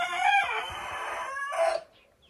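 A young chicken, a crossbreed of Gergebil hens, gives a single close, strained crowing call lasting about two seconds, rising and breaking off abruptly.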